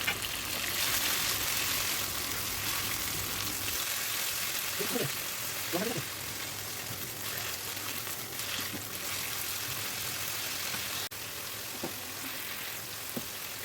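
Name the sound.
marinated meat pieces frying in a pan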